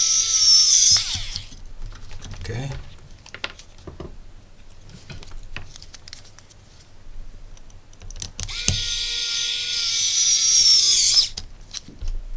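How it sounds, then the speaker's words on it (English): Small electric screwdriver driving screws into a cheap electronics module, two loud high-pitched motor whirs at the start and end, separated by quiet handling clicks and rustles. "much faster with this electric screwdriver"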